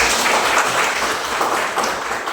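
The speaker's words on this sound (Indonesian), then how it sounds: "kasih tepuk tangan teman-teman" Applause from students and teachers in a classroom during a Hindu religious education lesson at an Indonesian institute, a steady dense wash of clapping that holds at even loudness through the short clip with no speech over it.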